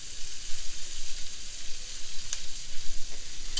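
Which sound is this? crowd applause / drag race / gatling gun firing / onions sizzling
onions sizzling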